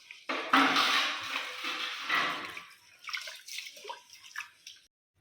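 Lentils (dal) swished and rinsed in water in a home kitchen, splashing and sloshing in bursts followed by softer dribbles and drips, close by and with no talking.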